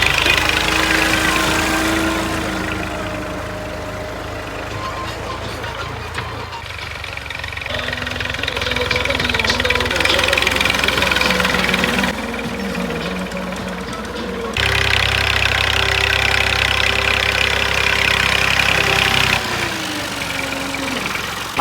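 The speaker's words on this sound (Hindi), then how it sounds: "अब हम भी ट्रैक्टर को ऊपर बैठ के जाते हैं।" A tractor engine runs steadily on a farm, a loud, close mechanical drone with a knocking throb that rises and falls in pitch as the load and throttle change.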